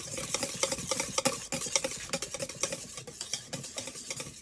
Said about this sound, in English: And whisk it into it until it turns orange.